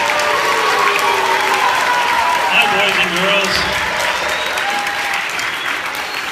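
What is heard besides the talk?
students applauding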